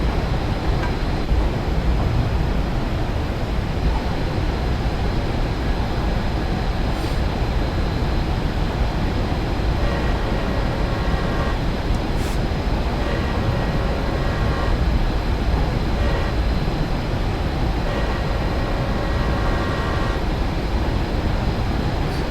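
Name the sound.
UP GTEL turbine train running in Train Simulator video game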